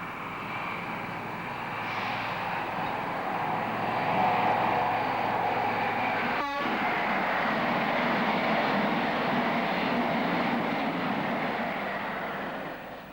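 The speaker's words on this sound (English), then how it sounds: "HST passes by in the early 1980s" An HST high-speed diesel train passing in the early 1980s on a preserved railway line: a broad, sustained engine roar that swells and holds, with a brief rattling burst midway, heard from trackside without voices.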